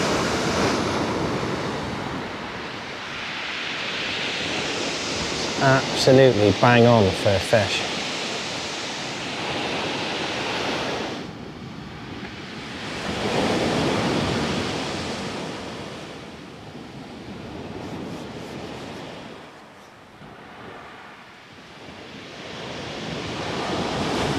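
Sea waves roll and wash steadily onto the shingle of Chesil Beach, loud and close with wind noise, swelling and easing in long surges while someone speaks briefly over the surf.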